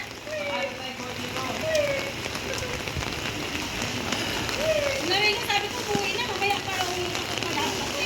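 Steady rain pattering on a surface during flooding in Valenzuela, with scattered drips and a constant wash of noise, and faint sounds of voices in the background.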